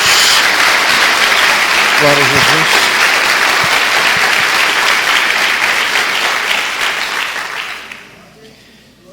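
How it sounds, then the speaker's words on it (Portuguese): Church congregation giving a round of applause, loud dense clapping filling the hall with a voice calling out briefly over it, then fading away toward the end. "Dê uma salva de palmas a Jesus."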